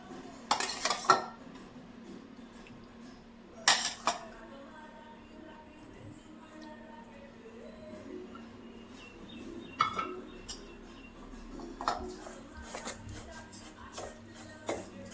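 A spoon mixes semolina and curd in a bowl, making scattered clinks and knocks against the dish with quiet scraping between them and faint background sounds.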